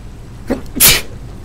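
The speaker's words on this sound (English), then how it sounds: "I just remembered that's probably why I'm sneezing." A single sharp human sneeze, a short breathy intake followed by an explosive burst, close and loud, with no talk around it.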